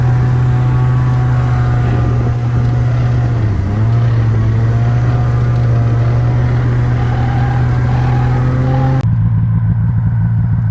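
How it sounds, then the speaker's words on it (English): A two-stroke engine runs steadily and loudly close by, a constant droning hum with a slight dip midway, cutting off abruptly near the end. "choking on Tom's two-stroke fumes."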